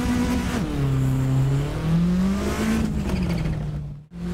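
A Toyota Celica ST185 Group A rally car revving in Assetto Corsa at Highlands, engine pitch climbing and falling through several loud, close revs before cutting off abruptly near the end; no talk.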